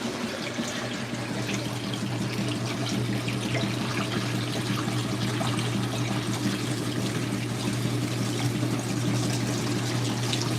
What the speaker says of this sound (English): In fact, it's actually draining now.